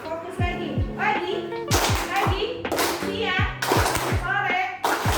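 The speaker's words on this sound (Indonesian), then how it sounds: "Wah, tepuk tangan lagi" Children clapping in rhythmic patterns during a classroom ice-breaking activity, sharp claps in quick groups between chanted words, voices of the kids and a teacher woven through.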